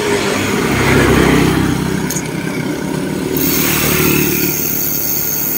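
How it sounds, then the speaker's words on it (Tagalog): Motorcycles pass along a cemented mountain road near a gas station, their engines droning loudly and continuously, with wind rumble and road noise. "Marami rin mga motor dito."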